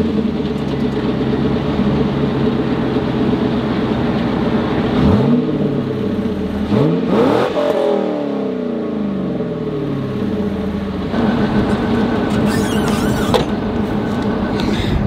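A Chevrolet Camaro SS engine cranks and fires, then settles into a loud, steady idle with several rising and falling revs and a whining pitch sweep partway through, close and continuous.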